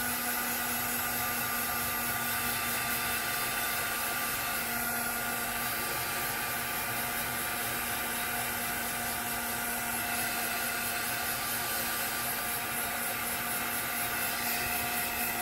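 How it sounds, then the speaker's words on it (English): A heat gun blows over freshly stamped ink on a handmade card, making a constant loud whooshing drone with a faint steady whine that runs unbroken throughout. "I'm going to use my heat gun again, just to help this dry."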